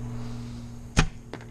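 A Gold Tip arrow is loosed from a Black Widow recurve bow outdoors, shooting uphill, giving one sharp loud snap followed by a fainter thud over a steady low hum.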